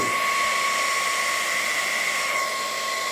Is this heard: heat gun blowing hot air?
yes